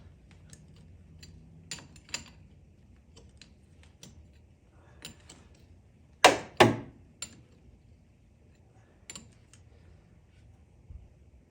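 A T fitting for the pressure switch of an ARB CMKA12 air compressor is tightened during installation in a Jeep JK: sparse close ticks and taps, with two loud sharp metallic clacks in quick succession near the middle.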